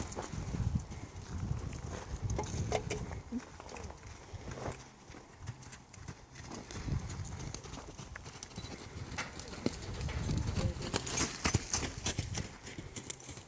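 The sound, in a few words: horse moving in arena, hooves clip-clopping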